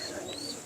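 A pigeon gives a brief, soft coo, a single short call heard against steady background noise.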